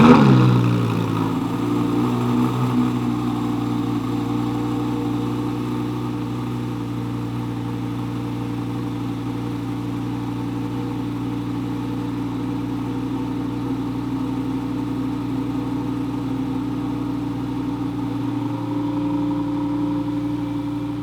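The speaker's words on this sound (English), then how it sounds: "you just heard the cold start" A car engine cold-starts with a brief rev, then settles into a steady, rumbling idle that continues evenly for a long stretch.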